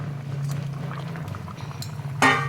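Fish pieces go into a half-cooked vegetable curry simmering in a pot. A low bubbling hum is broken by a short, sharp wet splash and sizzle near the end.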